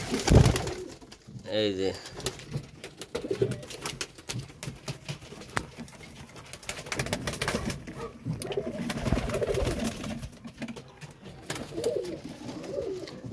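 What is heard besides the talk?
pigeons cooing in a pigeon farm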